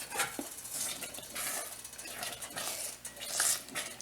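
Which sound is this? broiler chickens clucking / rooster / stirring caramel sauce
stirring caramel sauce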